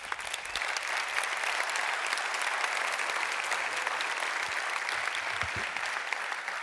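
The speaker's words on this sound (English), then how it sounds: "but this is your applause." Audience applause at the 2022 award ceremony for The smarter E, Intersolar and ees AWARD. Even, sustained clapping from a room full of people, heard at a moderate distance and fairly quiet, with no speech over it.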